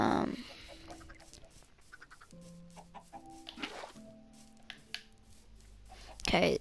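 Chickens cluck in the video game Minecraft, short tonal clucks scattered over a quiet background with brief soft sounds at the start and end.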